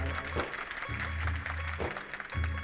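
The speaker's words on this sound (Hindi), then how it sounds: "आपने सबके लिए ताली बजाई है" An audience at a monk initiation-day ceremony in Begumganj, Madhya Pradesh claps in rhythmic bursts, steady applause pulsing under a speaker's amplified voice.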